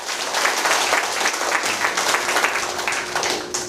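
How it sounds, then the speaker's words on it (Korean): Audience at a lecture breaks into applause, a full, continuous burst of clapping from many hands throughout, close and fairly loud. "네, 박수."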